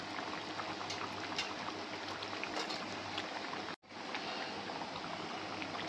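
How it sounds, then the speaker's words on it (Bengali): Chicken meat boils over medium heat in a pot, giving a steady, soft, dense bubbling and simmering hiss that runs on evenly with one brief dropout midway and no voices. "এটা পুরো মিডিয়াম আঁচে ফুটছে"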